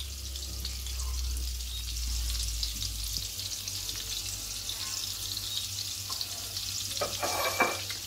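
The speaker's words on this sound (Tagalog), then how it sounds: "Habang nagme-melt na yung butter natin, ilagay natin yung ating garlic." Butter melts and sizzles in a pan for buttered shrimp, a steady close frying hiss with faint stirring clinks and scrapes toward the end, no talking.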